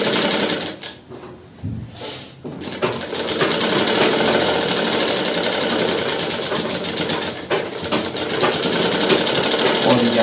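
A sewing machine stitches the leg seam over the gusset of a pair of underwear, giving a loud, close, steady mechanical whir that runs almost without a break after a brief pause near the start.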